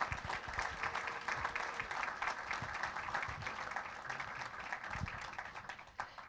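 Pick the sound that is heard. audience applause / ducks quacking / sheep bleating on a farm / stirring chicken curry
audience applause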